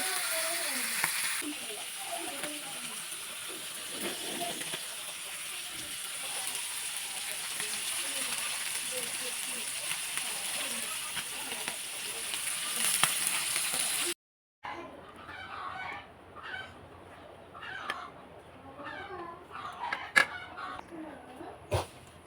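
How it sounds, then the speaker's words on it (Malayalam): Fish pieces frying in hot oil for an Indian-style lunch, a steady close crackling sizzle throughout that drops briefly at a cut before resuming with scattered pops and spits. "ബാക്കിയുള്ള ഫിഷ് കൂടി അതിലേക്ക് ഇട്ട് കൊടുക്കാം"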